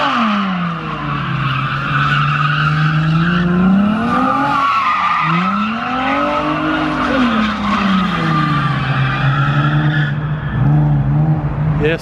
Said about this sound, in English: look at our cloud of burnout smoke